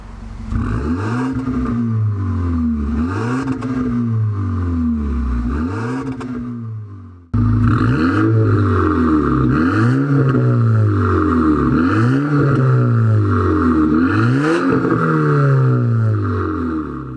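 An Audi A4 B8 with a Stage 2 tune, aftermarket downpipe and deleted resonator is revved repeatedly, its engine and exhaust swelling and falling in loud, close rises in two runs separated by a brief pause.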